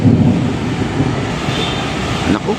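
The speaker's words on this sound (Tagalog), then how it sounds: "kulog ng kulog dito guys" Thunder rolls over an offshore barge where a giant crane hook swings during a lift, a loud, deep, continuous rumble that swells and fades slightly without any speech.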